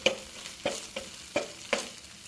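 Ginger and green chilli sautéing in a pan for a Bengali potato curry, a soft background sizzle broken by five sharp scraping stirs of a spatula, spaced roughly evenly and heard up close.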